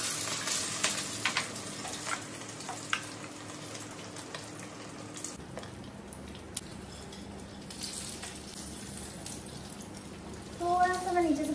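An egg fries in a pan on a home stove, a steady soft sizzle and crackle running throughout, with a brief rise in brighter spatter near the end.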